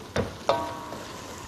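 Ingredients frying in olive oil in a pan while being stirred, a soft sizzle broken by a few sharp scraping strokes.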